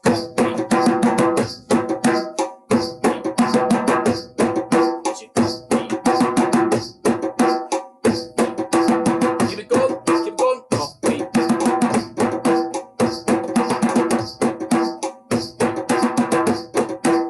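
Body percussion with hand claps and slaps beats out a steady, quick groove in repeated phrases, loud and close with no talking.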